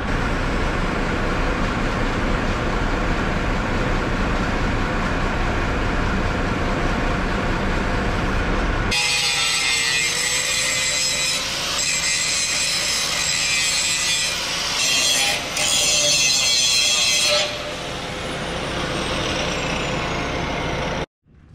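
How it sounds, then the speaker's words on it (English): An angle grinder fitted with a cutoff wheel smooths a steel truck frame during a DIY lift kit install. After a stretch of lower-pitched noise, a loud, continuous, harsh grinding starts partway through and carries on to the end, with no talk. "with a cutoff wheel and a grinder and smooth out the frame there"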